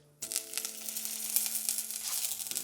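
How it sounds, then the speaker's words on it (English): Olive oil sizzles loudly in a pan, a sudden bright hiss that continues steadily with crackling pops over a faint background hum. "olive oil to the pan. It's that sizzle sound you want."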